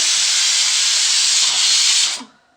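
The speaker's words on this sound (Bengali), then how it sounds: "এদিকে কুকারে সিটি উঠছে" Pressure cooker whistle on a stove while dal cooks, a loud, steady hiss of escaping steam that holds for about two seconds and then cuts off abruptly into quiet.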